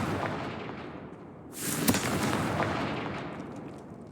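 Confringo fire spell in Hogwarts Legacy: a loud, broad fiery blast bursts in mid-clip with a sharp crack, then a rumbling roar that slowly fades over continuous low game ambience, with no talk.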